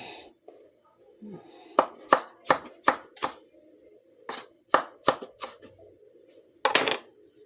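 Small tomatoes chopped with a knife on a cutting board, about a dozen sharp, evenly spaced knocks in two bursts with a short pause between, close and clear in a quiet kitchen.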